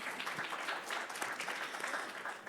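Audience applause fills a hall at a community breast cancer forum, steady and sustained for a couple of seconds at moderate distance with no voices over it.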